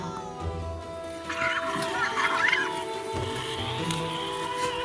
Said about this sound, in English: The noises they utter while feasting are more than just an expression of satisfaction.